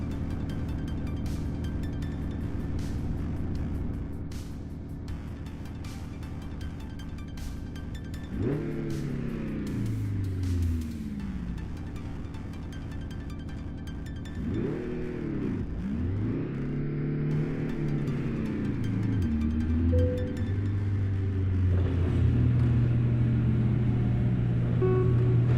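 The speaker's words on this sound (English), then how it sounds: "God, this truck sounds rough" A 1970s International Fleetstar 2070A logging truck with its engine running rough, a low rumbling idle that revs up and drops back several times in uneven sweeps before settling into a steadier, louder drone near the end.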